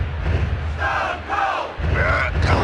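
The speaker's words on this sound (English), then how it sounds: "Listen to this capacity crowd." Capacity arena crowd cheering and shouting in the WWF War Zone wrestling video game on PS1, a loud continuous roar with surging yells, filling the whole stretch.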